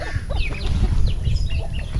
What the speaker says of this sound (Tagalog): yung ating mga alagang manok